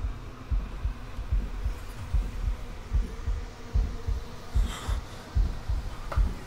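A looping heartbeat sound effect in the horror game F.N.F, a steady close double thump repeating every half second or so over a low hum.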